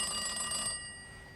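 An old telephone in a jail cell rings with a bright, tonal electric bell that cuts off abruptly partway through, leaving a faint hum, with no voices.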